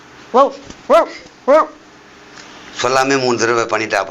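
A man imitates a dog barking with three short, evenly spaced woofs, then talking follows.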